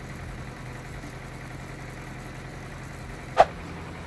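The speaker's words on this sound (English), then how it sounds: "Next I backed the tractor up and I used the 3-point hitch to line up the left side of the hitch." A tractor engine idles steadily in a low, even drone while backing up to line up a 3-point hitch for a snow blower, with one sharp metallic clank near the end.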